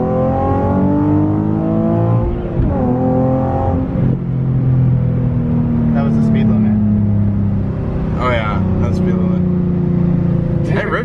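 Nissan 370Z launching hard with traction control off, engine revving and climbing through gears with rising tone, loud and close from inside the car, while people talk over it.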